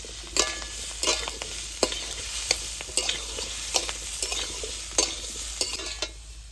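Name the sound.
frying and stirring potatoes and papaya in a pan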